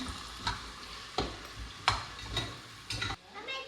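Green chilli paste and garlic fried in a pan are stirred with a spoon, producing repeated scraping strokes about every half second over a quiet sizzle, close and fairly soft, with no talking.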